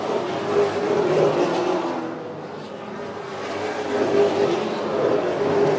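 Super late model race cars roar around an oval track in the Easy-Kleen Super Late Model Series, a continuous engine drone that swells and fades as the pack passes, heard from a distance.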